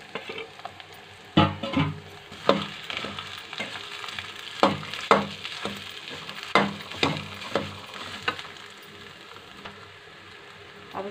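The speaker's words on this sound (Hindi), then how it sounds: "अब इसमें हम कद्दूकस किया हुआ आलू डाल रहे हैं।" Grated potato sizzles in hot oil in a pan with chopped garlic leaves while aloo paratha filling is made, with repeated scraping stir strokes every second or so over a constant crackling fry.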